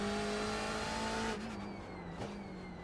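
A BMW M8 GTE race car in the iRacing simulator roars under steady throttle with a whining engine note, then a brief shift and scrabbling wheel spin, heard continuously at moderate level with no talk.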